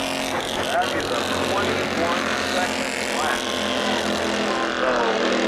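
Bandolero race cars roar around Tucson Speedway in a steady, loud engine drone that holds throughout, with a race commentator talking over it.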